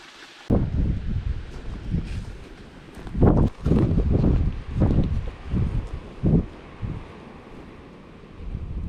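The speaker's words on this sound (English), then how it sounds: "She's pretty windy today" Strong outdoor wind buffets the microphone in irregular low gusts that swell and drop repeatedly, loud and close, with no talking.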